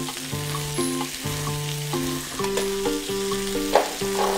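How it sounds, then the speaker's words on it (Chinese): Garlic chives and strips of red pepper are stir-fried over high heat, a steady sizzle and scrape of tossing under a bed of sustained musical tones, with no voices. "然后我们继续给它啊煸炒， 这是大火啊"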